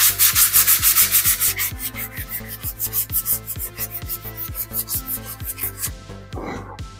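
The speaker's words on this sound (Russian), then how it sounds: "Есть у меня вот такая на поролоновой основе наждачка." End grain of a wooden cutting board is sanded by hand with foam-backed sandpaper: quick rhythmic back-and-forth rasping strokes, close and fairly loud, about two per second, fading to a few softer rubs at the end.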